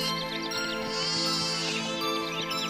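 Young goat kids bleat in a series of wavering, tonal cries that carry clearly over a soft background for a few seconds.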